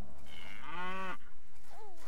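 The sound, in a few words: cow mooing in the video game Stronghold HD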